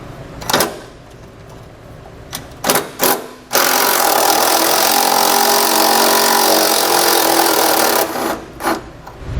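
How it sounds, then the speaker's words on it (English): A few sharp ratcheting clicks give way to a loud, steady whir from a powered 13mm socket tool removing exhaust hanger bolts on a 2017 Audi Q3, lasting several seconds, then more short clicks. "We're going to use a 13mm socket to remove these 2."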